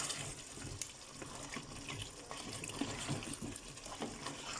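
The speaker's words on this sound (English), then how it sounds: "Okay, now to this, I'm going to be adding in water." Water from a tap pours steadily into a pot of mutton gravy with potatoes and thyme, a continuous splashing gush that runs throughout at close range.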